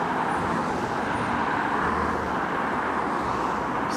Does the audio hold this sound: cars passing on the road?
yes